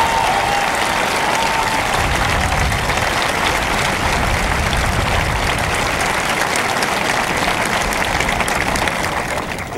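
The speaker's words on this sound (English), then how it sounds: "join me this morning in a round of applause in recognition of their superlative efforts" Loud, sustained crowd applause at a Marine Corps recruit training graduation ceremony, a thick wash of many hands clapping that holds steady for about ten seconds in a large space.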